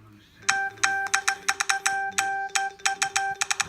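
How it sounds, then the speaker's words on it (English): LeEco Le Pro3 smartphone sounding a rapid run of notification chimes, bright repeated beeps in quick irregular bursts, loud and close with no talking. "all my notifications coming in"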